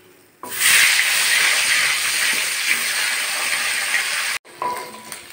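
Katla fish heads frying in hot oil: a loud, steady sizzling hiss that starts abruptly, holds for several seconds, then cuts off briefly before resuming more softly.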